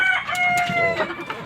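Chickens being fed, clucking and calling near the listener in short bursts, with a rooster crow among them and a little background voice.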